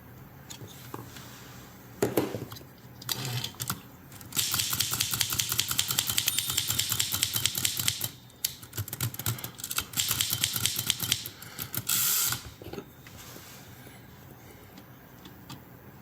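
An Underwood Portable 3 Bank typewriter with a line lock problem is worked by hand, giving bursts of rapid mechanical clacking and rattling with brief pauses and quieter fiddling between, close and fairly loud.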